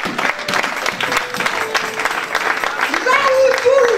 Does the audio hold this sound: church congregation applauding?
yes